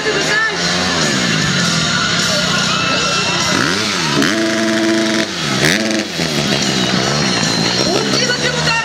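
Motorcycle engine revving repeatedly at a town talent-show event in Lyubimets, Bulgaria, loud and close with rising and falling rev sweeps and a hum of crowd noise throughout.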